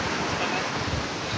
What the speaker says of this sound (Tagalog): Ito na yung dagat guys oh.